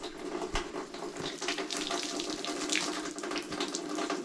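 Tap water runs steadily into a sink while hands are washed, a continuous close splashing hiss with small irregular spatters and no talking.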